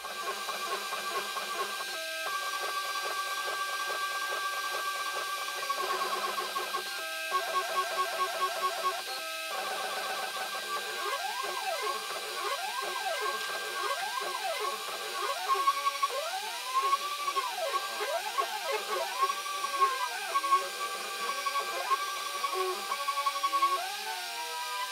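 A CNC router running a rest machining pass with a 0.5 mm bit on a guitar neck blank: a steady high whine with sweeping pitch changes as the small cutter moves through the material, continuous and close, with no talking.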